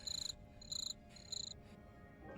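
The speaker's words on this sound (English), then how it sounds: "There are your crickets." Crickets chirp in three short, faint trilled bursts over a low ambient bed, in a trailer for a video game set in 14th-century Italy.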